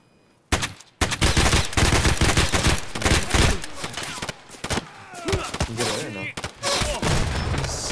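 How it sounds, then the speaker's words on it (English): Video game firefight with dense, rapid bursts of automatic gunfire and overlapping shots at close range, nearly continuous with brief gaps, while players talk over it. "I'm shooting the guys across"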